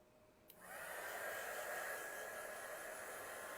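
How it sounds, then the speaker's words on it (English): A heat tool blows hot air over resin to soften it: a sudden steady, hissing rush of air switches on and keeps blowing evenly until the end. "I'm going to hit this with the heat tool real quick."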